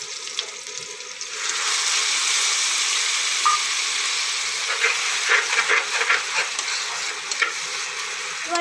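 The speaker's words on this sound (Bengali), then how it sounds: "আলুগুলো ভেজে নামিয়ে নিচ্ছি" Potatoes frying in hot oil in a home kitchen, a loud continuous sizzle and hiss with occasional stirring scrapes, close and alone without talk.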